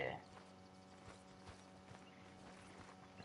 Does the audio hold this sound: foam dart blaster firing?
no